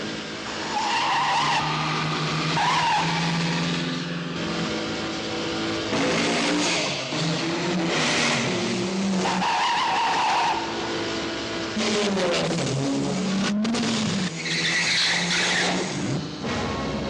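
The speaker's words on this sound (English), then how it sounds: "I doubled for Sean Connery driving the Aston Martin, crashing into a wall." An Aston Martin skids across a back-lot film set built of polystyrene for a stunt crash into a wall, with loud repeated tire squeals and engine surges running continuously throughout.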